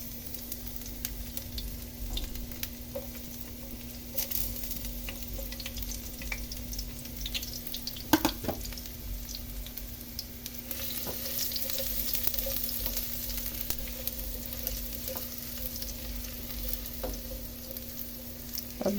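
Garlic fries in a pan with a constant fine sizzle under a steady low hum, dotted with scattered clinks and scrapes of stirring, close and moderately quiet.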